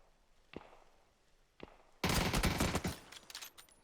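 Two faint isolated shots, then a loud, dense burst of rapid gunfire lasting nearly two seconds, with crackling gunfire from the video game PUBG.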